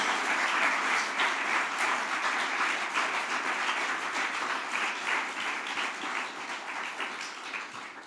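A congregation claps together through a church sermon, a dense, steady wash of hands that holds strong throughout and eases off slightly near the end, with no voices over it.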